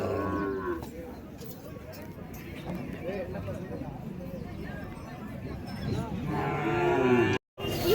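Bull calves mooing at a busy cattle market, loud and repeated over steady crowd murmur and livestock noise, with people talking nearby throughout.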